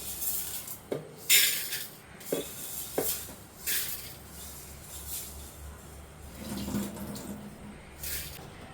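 Green gram (mung beans) is washed in water in a kitchen, with intermittent splashes, swishing and water pouring in short bursts, fairly close and moderately quiet, with no talking.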